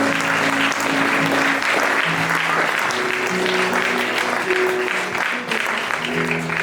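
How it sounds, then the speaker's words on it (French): Church congregation clapping together in sustained, dense applause that carries steadily throughout, with a faint musical tone or voices mixed underneath. "Est-ce qu'on peut applaudir le Seigneur?"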